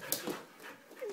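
Freshly bathed puppies and a dog panting quickly and softly at close range, with a brief whimper among the breaths and light household noise, no clear talk.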